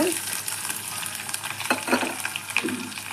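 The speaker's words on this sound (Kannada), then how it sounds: "ಎಣ್ಣೆ ಕಾದಿದೆ, ನಾವು ಹಚ್ಚಿಟ್ಕೊಂಡಿರೋ ಈರುಳ್ಳಿ ಹಾಕ್ಕೊಂಬಿಡೋಣ" Chopped onions hit hot oil in a pan, after cumin and curry leaves, for a stuffed brinjal curry. A steady, close sizzle with a few louder bursts of crackle in the middle and near the end.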